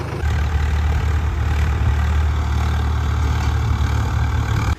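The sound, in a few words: Mahindra 275 Arjun tractor engine idling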